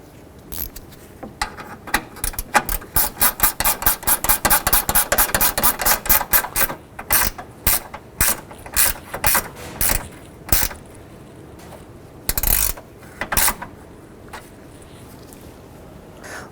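A ratchet snugs down a radiator support bracket bolt on a 2007-2011 Honda Civic: rapid close clicking that slows into spaced, irregular ratchet strokes with pauses and one louder clunk, and no voices.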